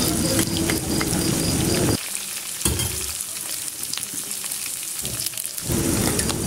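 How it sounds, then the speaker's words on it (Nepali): Chicken curry meat frying in a pan, a loud dense sizzle that cuts off briefly twice before returning, with no talk over it. "मासु मजाले रातो भइसकेको छ। हेर्नु त मजाले खरिएको छ।"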